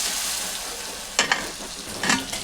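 Potato pieces frying in oil with cumin and dried red chilli, a steady close sizzle with a couple of sharper scrapes or pops partway through, no voices.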